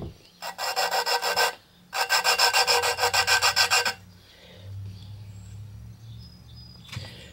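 Valves from a push mower engine being lapped by hand, giving two close, loud bouts of rhythmic gritty rubbing, each a rapid run of back-and-forth strokes with a brief pause between, then quieter handling noises.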